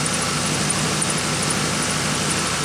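A 1993 Chevrolet C1500 pickup idles through a 3-inch exhaust with no muffler, giving a steady, low, rumbling drone that holds evenly without revving.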